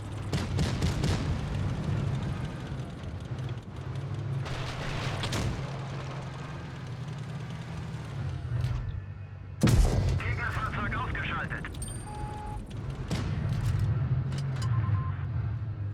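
An IS-5 tank firing its gun in World of Tanks Blitz, a sharp heavy boom near the middle over a constant low engine rumble, with smaller battle noises and chimes around it.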